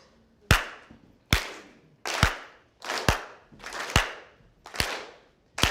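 An audience claps in unison at an awards event, about seven sharp, evenly spaced claps roughly a second apart, each ringing briefly in a reverberant hall.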